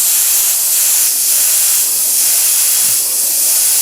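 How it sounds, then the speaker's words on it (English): Aerosol spray can laying white paint over a stencil, a loud close hiss sustained across the whole stretch in a few long passes with slight swells between them, no talking. "I'm going to be spraying white."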